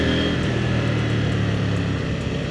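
A CFMOTO motorcycle engine drones steadily while riding in the rain, a loud continuous mid-pitched hum mixed with wind and road noise throughout.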